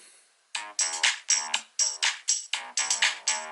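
A GarageBand virtual drummer on iPhone plays a steady pattern of crisp, punchy hits, close and clear, with no voices.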